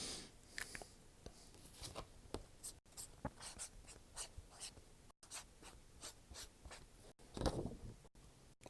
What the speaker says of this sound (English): I can write answers down on the paper.